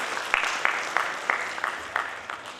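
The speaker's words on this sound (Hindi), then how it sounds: "जोरदार तालियों से स्वागत।" Audience applause at a souvenir booklet release programme, moderate clapping with a regular series of sharper accented claps, heard at a middle distance in a reverberant hall.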